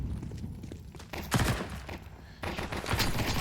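Submachine gun fire in Counter-Strike during a PGL Bucharest 2025 playoff match, Apogee versus FaZe Clan: rapid bursts crackle in two heavy clusters, loud and close, with scattered shots between them.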